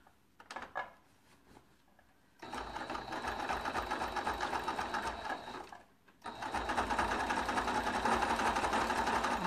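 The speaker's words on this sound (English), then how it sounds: "I'm just going to stick it back under the sewing machine and I'm going to stitch it down" A sewing machine stitches quilt binding in two long, steady bursts of rapid stitching, with a short pause between them and a few soft handling clicks at the start.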